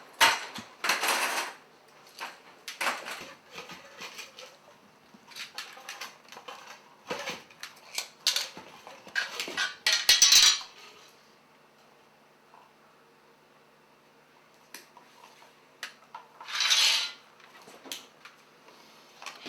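Sheet metal being cut for an HVAC transition, irregular bursts of snipping and metallic scraping with pauses between, close by and without speech.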